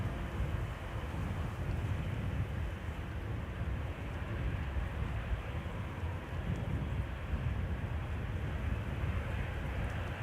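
An airliner rolls at Schiphol airport near the Polderbaan runway as a steady, low, broadband rumble with wind noise. The sound is distant and even throughout, with no speech.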